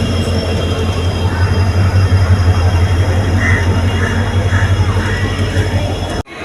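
A Nilambur to Shoranur passenger train approaches with a loud, steady low rumble of wheels on rails, faint squeals above it, until the noise cuts off abruptly near the end.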